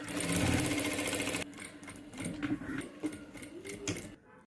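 Sewing machine stitching a pocket seam, a steady close rapid mechanical whirr that runs loud at first and then continues more softly in short uneven bursts before stopping.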